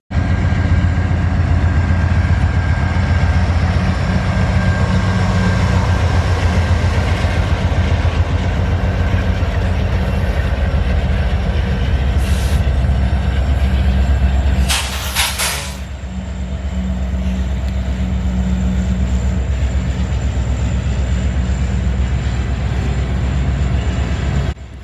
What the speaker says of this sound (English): After chasing down and barely catching the CSX transfer after we had gone somewhere else for a moment